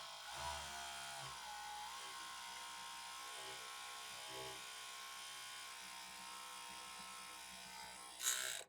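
A sewing machine runs a steady, continuous seam along a waistband, a level mechanical whir that persists throughout with a brief louder clack at the very end.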